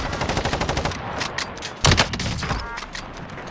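Gunfire in Call of Duty Warzone: a rapid burst of repeated shots is followed by one heavy, booming rifle crack, then quieter echoing fire, all close and loud.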